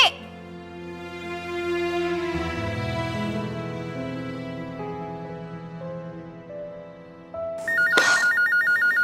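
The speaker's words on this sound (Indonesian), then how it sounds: "Jumi, angkat telepon." An indoor telephone rings loudly and electronically, entering near the end after a stretch of dramatic music, with a repeating warbling trill in the foreground.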